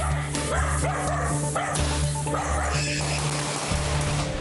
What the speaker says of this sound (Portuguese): Esse se esconde atrás da dona, late muito e ninguém percebe que o animal está apavorado.